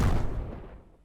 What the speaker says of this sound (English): So it's just a, Joey Sturgis kind of gunshot sound